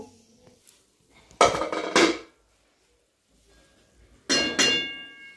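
A pressure cooker being lifted down from the stove, with two loud metallic clangs of pots close by and a third clattering bang after a quiet pause.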